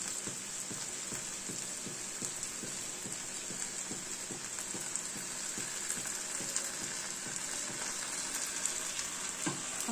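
Vegetables for fried rice fry steadily in a pan, with a constant bright sizzle and a regular light ticking of spatters throughout.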